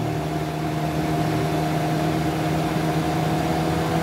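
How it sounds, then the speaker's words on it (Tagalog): A car's auxiliary cooling fan running with a steady, even whir and a low engine hum, constant and close, with no talk. "pangatlong andar ng auxiliary fan"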